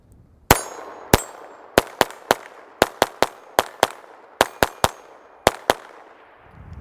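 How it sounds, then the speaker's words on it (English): A handgun firing Federal Punch 22LR personal defense ammunition, about sixteen sharp, loud cracks in an uneven sequence, each shot followed by a short ringing decay, close by and without talking. "Man, I miss shooting this gun."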